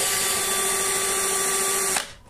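A power drill mounted on a homemade wooden drilling jig for boring cabinet and wardrobe doors whirs at a steady high pitch close by, then cuts off abruptly near the end.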